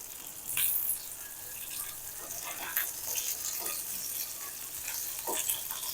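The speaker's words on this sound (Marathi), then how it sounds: "मिरचीचे काप आहेत तर ते आपल्याला असे पलटी करून घ्यायचे आहेत" Capsicum slices fry in a pan and are turned over, a faint hissing sizzle with scattered soft scrapes and light taps as pieces are flipped, fairly quiet and without speech.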